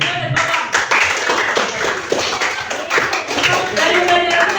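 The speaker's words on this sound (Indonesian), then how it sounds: "kita berikan aplaus untuk Sergio dan Bapak" A classroom applauds a student named Sergio and the teacher with a loud, close burst of many hands clapping, steady throughout, while voices sound over the clapping.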